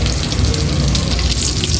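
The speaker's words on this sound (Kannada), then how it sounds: "ಒಗ್ಗರಣೆಗೆ ಸಾಸಿವೆ, ನಾನಿಲ್ಲಿ ಈರುಳ್ಳಿ ಏನು ಬಳಸ್ತಾ ಇಲ್ಲ, ಬರೀ ಸಾಸಿವೆ ಮತ್ತು ಕರಿಬೇವಿನ ಸೊಪ್ಪು" Mustard seeds, curry leaves and dried chillies sizzle loudly in hot oil as a tempering for sambar, a close, continuous crackling fry that stays steady throughout.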